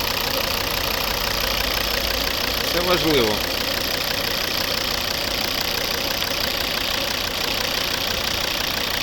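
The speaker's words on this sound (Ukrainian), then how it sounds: "Ось робота цього знаменитого двигуна" A 2011 Volvo S40 2.0 D3 diesel engine idles with a steady, rough clatter and low rumble, close by, with a short spoken remark over it partway through.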